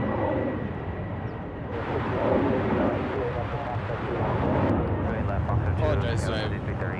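An airliner going around at San Francisco International Airport gives a broad, loud, steady jet roar as it climbs into the clouds, with someone talking over it throughout.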